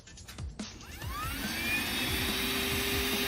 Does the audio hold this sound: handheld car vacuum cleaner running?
yes